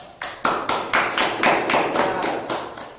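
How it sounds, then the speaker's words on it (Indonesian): Slow rhythmic clapping in a classroom for a student, about ten sharp evenly spaced claps, close and fairly loud with no talk. "Tepuk tangan untuk Sindaya"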